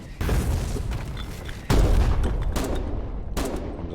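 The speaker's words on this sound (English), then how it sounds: "Comes that artillery." Heavy artillery fire in the war video game Foxhole during colonial frontline fighting, with booming shots and rolling volleys of gunfire that swell into a loud sustained barrage.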